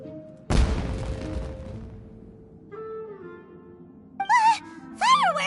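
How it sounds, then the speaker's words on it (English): A fireworks explosion in Genshin Impact: one loud, sharp boom followed by a crackling, fizzing tail that fades over about a second, then quieter game tones and rising musical chimes follow. "Was that an explosion? It sounded like fireworks."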